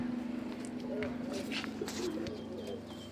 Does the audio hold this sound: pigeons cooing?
yes